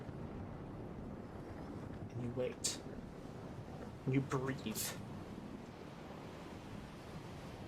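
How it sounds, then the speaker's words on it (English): Ocean waves wash around a ship at sea, with a breeze in the remaining sails, creaking wooden timbers and water lapping the hull. The ambience is soft and continuous beneath a calm speaking voice. "a little bit of breeze catching whatever sails are left out, the creak of the wood of the ship, and the lapping of the water against the side"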